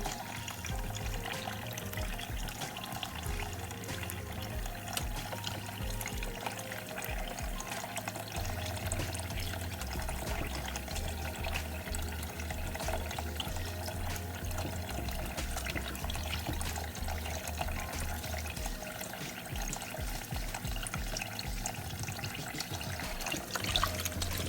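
Running water splashes and trickles steadily throughout as oxtail is rinsed under a tap, with clattering movement in the water and no talking.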